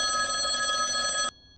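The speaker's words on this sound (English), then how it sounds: "Suddenly, our home phone started ringing really loud." A home telephone rings loudly and continuously with a bright electronic trill, then cuts off abruptly near the end, leaving quiet room tone.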